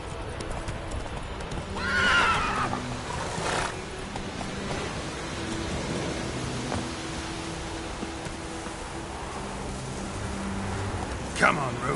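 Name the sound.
horse Roach neighing and trotting, from video game The Witcher 3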